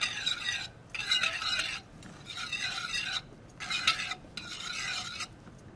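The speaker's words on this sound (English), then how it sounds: "then we'll just take that off the heat and then just whisk in the rest of that butter" A whisk rasps against the pan as butter is worked into a beurre blanc sauce off the heat. About five brisk scraping bursts come in a steady rhythm, separated by short pauses, close and clear with no talk.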